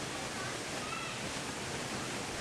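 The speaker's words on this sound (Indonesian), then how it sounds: "deburan air yang jauh dari ketinggian, serta suara aliran sungai yang jernih dan dingin" Rauda waterfall in Kendari pours without pause, its water falling from a height alongside a clear, cold river, giving a dense, steady hiss that stays level throughout.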